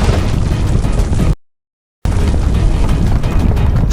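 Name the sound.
mountain explosion sound effect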